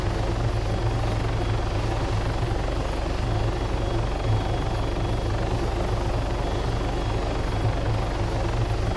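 Helicopter in the video game Arma 3, a loud steady rotor and engine drone with a deep pulsing low throb, constant and unbroken for nine seconds.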